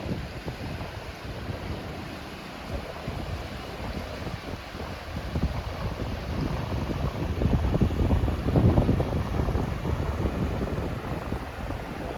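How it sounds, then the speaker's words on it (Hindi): Cold water flows in a stream in the Tamhini Ghats near Mulshi, Maharashtra, making a steady broadband rush that swells slightly midway, with no voices. "पानी बह रहा है, ठंडा ठंडा पानी है।"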